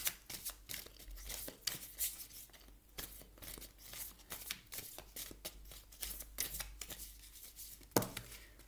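Tarot cards are shuffled and drawn by hand in a series of quick, crisp riffles and papery flicks. The bursts come in an irregular rhythm close to the listener, with no voices.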